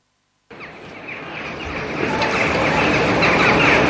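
Crows calling in a grove make a dense, steady flock chatter that begins suddenly and grows louder and fuller, with no one speaking.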